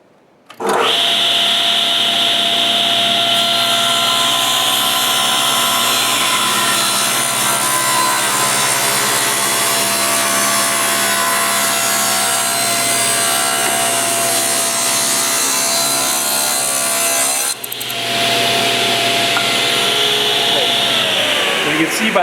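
Table saw spinning up and cutting through wood, a loud sustained high whine with rasping bite as the blade feeds the board, steady for most of the cut before the pitch shifts near the end as it finishes.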